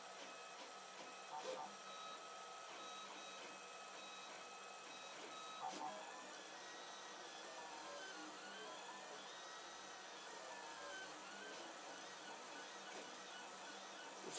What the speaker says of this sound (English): So here's the printer.